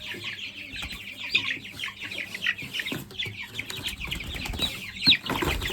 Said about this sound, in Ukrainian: Випускаємо ми останніх курчат